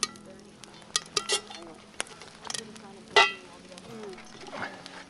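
Food pops and crackles in a covered pot at a winter campsite during cooking of chicken and rice, giving scattered sharp snaps and sizzles close by, with a lid clink and a person talking in between.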